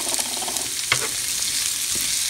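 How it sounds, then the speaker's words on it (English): Potatoes and onions sautéing in a pan, a steady close sizzle with a few brief stirring scrapes and no talking. "Saute them for another minute."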